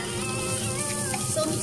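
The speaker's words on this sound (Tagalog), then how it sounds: "After nag-translucent na ang ating onions, so i-add na natin ang ating shredded potato" Shredded potato sizzles as it hits hot oil with translucent onions in a pan, a steady, close, crackling fry that holds evenly throughout with no voices.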